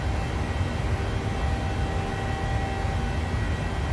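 Airliner engines in a flight simulator game hold a steady, loud, broad roar throughout, with no audible change in pitch or level.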